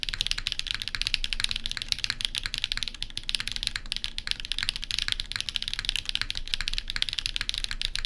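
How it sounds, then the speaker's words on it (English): Steady, fast typing on a mechanical keyboard fitted with high-pitched HMX 80 Retro long pole switches, a dense run of bright, crisp clacks heard close and alone for the whole stretch. "We built this with HMX 80 retros, which are high pitch HMX long pole switch."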